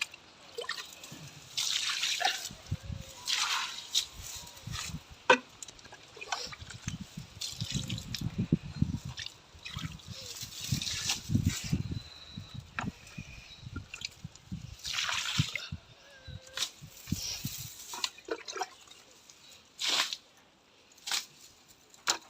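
Cow dung slurry poured along the edge of a courtyard gives wet splashes and drips in irregular bursts, close and fairly quiet, with pauses between pours.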